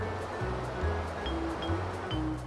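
Sea surf around an island rolls in a steady hiss of breaking water, quiet and unbroken beneath soft background music.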